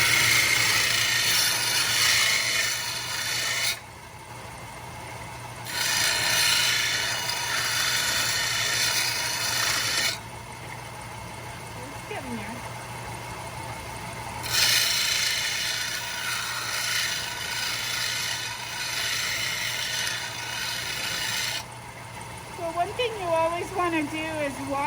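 A slotted screwdriver pressed by hand against a grinding wheel during tool making, heard as harsh grinding bursts that start and stop several times over a low motor hum. A voice talks between the bursts.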